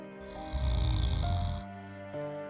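A woman snores while asleep in a hut, one long rasping breath near and fairly loud, followed by quieter breathing, with a steady tone running beneath.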